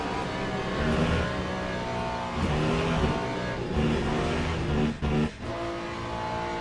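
Ferrari GT3 race car engine in the Le Mans Ultimate video game at Spa, a loud, close, continuous revving roar with rising and falling pitch and a couple of brief dips near the end.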